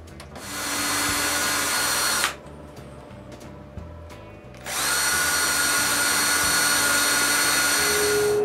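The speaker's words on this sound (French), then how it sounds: "Je peux enfin aspirer toute la poussière que je peux." A vacuum cleaner runs loudly, sucking up sawdust from a freshly drilled wooden bedside table top, with a steady roar that cuts off for about two seconds of quieter workshop rattling before starting again and continuing to the end.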